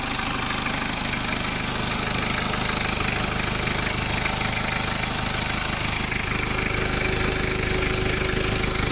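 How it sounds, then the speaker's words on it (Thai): A Nissan Frontier 2.5 4x4 pickup with 250,000 km on it idles steadily after starting, a continuous mid-low diesel-like rumble with a faint knocking texture, close and alone without talk. "มาสตาร์ทเครื่องฟังเสียงกันสักนิดนึง สตาร์ทติดง่ายมาก ๆนะครับ ให้ฟังเสียงเครื่องพร้อมๆกันเลยนะครับ"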